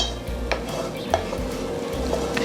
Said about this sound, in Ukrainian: Сюди ж додаю цибулю з грибами і все добре вимішую